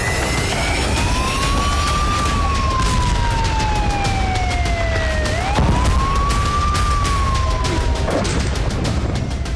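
Air raid sirens wail across Moscow after a Ukrainian missile and drone attack, two long rising-and-falling tones sweeping over a steady noisy background, loud and continuous with no speech.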